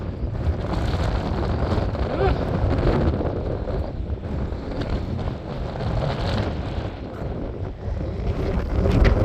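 Strong wind buffets the microphone at an aqueduct during a fishing outing, a loud continuous roar with gusty swells throughout, with faint background voices.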